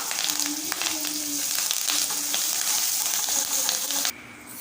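Grated ginger, chilies and curry leaves crackle and sizzle steadily in hot oil for a tempering, a dense close frying hiss that cuts off abruptly near the end.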